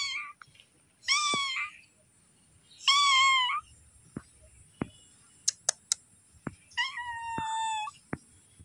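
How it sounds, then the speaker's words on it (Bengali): A house cat meows four times, the calls drawn out and spaced across the scene, with a few sharp taps and clicks in between in a quiet indoor setting. "দেখো এই বাড়ির বিড়াল।"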